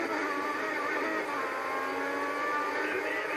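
Formula 1 race car in the F1 2014 video game, a steady loud engine roar with tire noise held at constant pitch for a few seconds, no talk.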